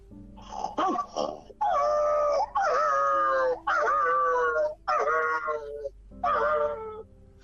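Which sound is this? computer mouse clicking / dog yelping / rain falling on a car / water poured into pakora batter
dog yelping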